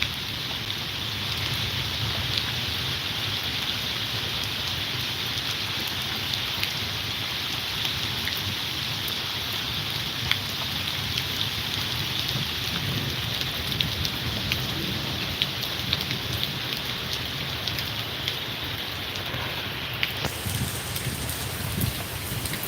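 Heavy rain pours steadily in Bassi Pathana, Fatehgarh Sahib, a dense continuous hiss of drops on surfaces, loud and even throughout, with no voices.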